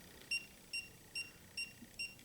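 Faint, evenly spaced high electronic beeps repeat five times in a steady rhythm over quiet background hiss.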